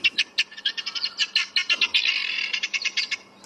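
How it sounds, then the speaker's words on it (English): Helmeted guinea fowl call played back from a sound device outdoors, a loud rapid series of harsh, rhythmic chattering notes repeating steadily without pause. "that is the sound of the helmeted guinea fowl"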